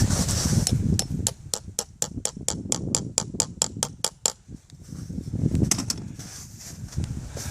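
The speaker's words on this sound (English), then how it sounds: "Just hammer that in there, right?" Rapid, evenly spaced hammer blows ring out, about a dozen sharp strikes in a row, then a few scattered hits over rumbling background noise.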